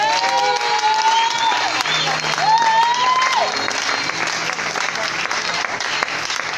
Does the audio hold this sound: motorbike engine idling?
no